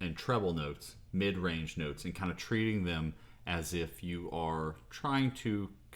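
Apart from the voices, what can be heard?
No everyday noise stands out behind the speech.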